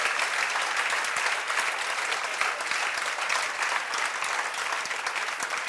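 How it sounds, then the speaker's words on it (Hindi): Loud, steady applause from an audience of students and guests at a gathering, a dense, continuous roar of clapping that holds throughout with no pause. "जोरदार ताली बजाओ।"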